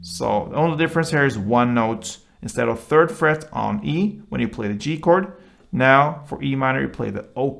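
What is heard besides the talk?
No everyday noise stands out behind the speech.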